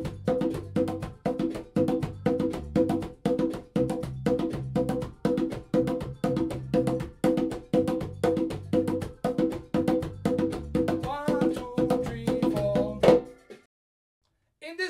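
Congas play a beginner reggae rhythm at double speed over a reggae bass line, dense rapid hand strikes in a steady repeating pattern, close and moderately loud, stopping abruptly near the end.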